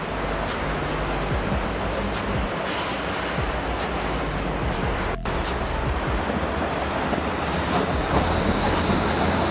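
Steady, dense rumble and roar of an LRT light rail train in Bekasi, heard from onboard as it runs along continuously, loud throughout with a brief dip midway.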